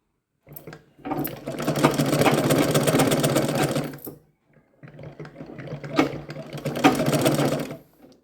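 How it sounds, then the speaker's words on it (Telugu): A sewing machine stitches a half-inch rounded seam on a blouse lining in two steady runs of about three seconds each, separated by a short pause, loud and close with no talking. "నేను హాఫ్ ఇంచుతో రౌండ్కి కుడుతున్నాను"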